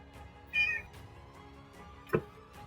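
A person imitates a cat with two short meows, the first a higher drawn-out mew and the second a brief sharper one, heard close and clear over a quiet background.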